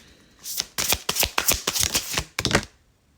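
Tarot cards shuffled by hand at close range, a rapid run of crisp riffling bursts for about two seconds, a short pause, then one final quick flurry, with no talk.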